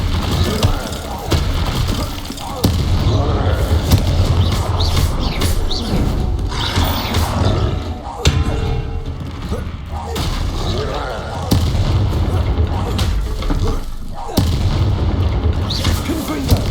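Spell explosions from Bombarda and Confringo in the video game Hogwarts Legacy, a loud, steady barrage of booming blasts and impacts that repeats throughout under dense game combat noise.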